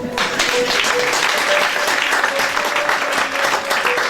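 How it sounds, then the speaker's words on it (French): A church congregation applauds, a dense, loud and steady burst of many hands clapping that carries on for several seconds, with some voices mixed in. "Acclamons ici."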